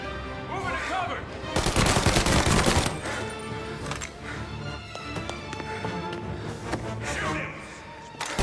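Heavy gunfire in the video game Mafia: Definitive Edition: dense bursts of rapid shots, loudest near the start, then scattered single cracks and shorter volleys, with shouting voices mixed through the fight.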